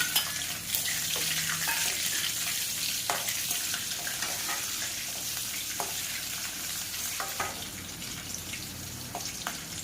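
Chopped green chillies fry in a pan for tomato curry with a continuous crackling sizzle, broken by occasional spoon clinks and stirring scrapes.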